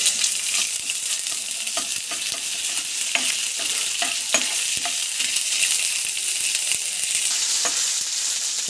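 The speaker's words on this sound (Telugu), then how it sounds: "1 స్పూన్ అల్లం వెల్లుల్లి పేస్ట్ వేసుకోవాలి. వేసుకొని కొద్దిగా కలుపుకోవాలి." Ginger garlic paste is stirred through sizzling tempering oil in a pan, giving a steady, close frying hiss broken by scraping strokes of the spoon, with no voices.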